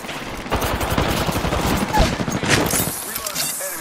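Rapid automatic gunfire in the video game Apex Legends, a loud sustained burst of shots lasting several seconds, with faint in-game voice under it.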